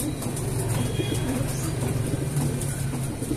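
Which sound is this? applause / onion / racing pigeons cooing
racing pigeons cooing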